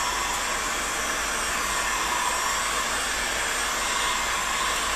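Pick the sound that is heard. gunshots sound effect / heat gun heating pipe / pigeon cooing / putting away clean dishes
heat gun heating pipe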